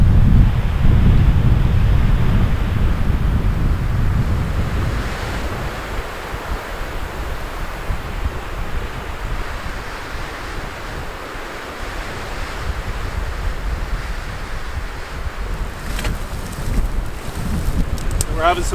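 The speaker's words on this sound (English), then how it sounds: "You can barely move forward in this wind." Strong gusting wind and choppy waves on open wilderness water around a small boat, a loud continuous roar with buffeting on the microphone, heaviest at first and easing slightly later.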